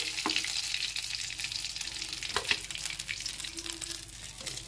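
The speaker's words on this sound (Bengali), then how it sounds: "দুটো দুটো করে মাছগুলো ভেজে নিচ্ছি" Tilapia fish frying in oil in a wok, a continuous hiss and crackle with a few sharper spatters and faint clinks of a utensil stirring, close and steady.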